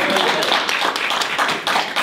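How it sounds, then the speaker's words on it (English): A live audience applauds in a classroom-style talk setting, dense claps spread evenly over two seconds at moderate loudness, with no speech over it. "Let's give him a round of applause."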